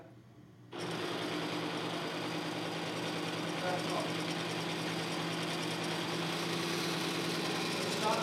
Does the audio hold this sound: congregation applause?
no